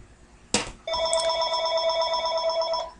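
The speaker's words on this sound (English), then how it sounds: "And there goes our phone again." A telephone bell rings out loud and steady after a sharp knock, the electronic ring sustained to the end in an otherwise quiet room.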